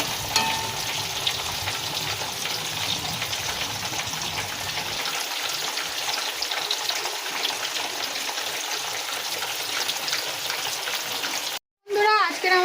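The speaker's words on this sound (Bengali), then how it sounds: "দেখো ভাজা হচ্ছে" Chicken pieces frying in hot oil dusted with turmeric powder, giving a steady loud sizzle and crackle throughout, with a brief dropout near the end; rain falls outside and a voice speaks faintly under it.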